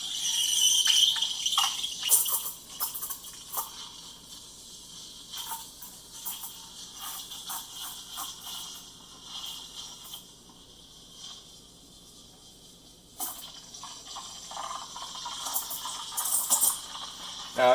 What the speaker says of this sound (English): this allows you to steam your milk.